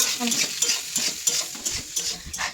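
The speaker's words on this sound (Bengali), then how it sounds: "পাস্তাটা দিয়ে ভালো করে নেড়ে নিচ্ছি।" Pasta being stirred in a spicy pan sauce, quick close scraping strokes of a spoon against the pan in a brisk irregular rhythm over a light sizzle.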